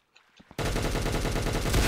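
Automatic gunfire in a one-on-one video game shooter match: a brief quiet start with a few soft clicks, then a loud, sustained, rapid burst of shots that runs to the end.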